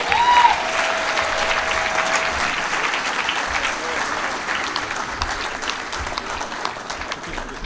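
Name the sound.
audience applause for award champion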